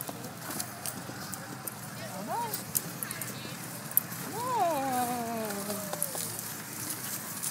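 A pony ridden at a farm walks with soft, steady hoof clops, while voices talk and call over the top.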